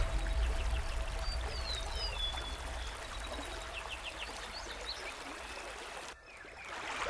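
Amazon river flowing through the jungle, a steady broadband wash of water with faint birdsong above, continuous and moderately distant, briefly dipping near the end.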